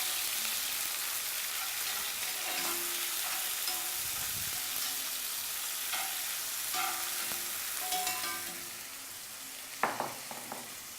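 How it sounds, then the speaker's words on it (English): Chicken pieces sizzle and fry in a pot while being stirred, a steady hiss with scattered scraping clinks of the spoon, close and alone with no talk. "And then we put in our chicken. And let's just stir that around a little bit."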